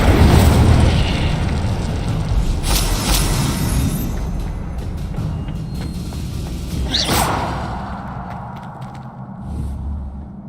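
An Incendio fire spell goes off in Hogwarts Legacy with a loud roaring burst and rushing flame, followed by a sharp whooshing crack midway before the sound fades into a quieter rumble.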